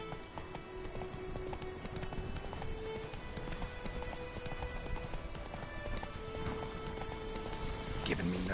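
Horse hooves clip-clop at a steady galloping rhythm in the video game Witcher 3, with a voice speaking over the busy game soundscape throughout.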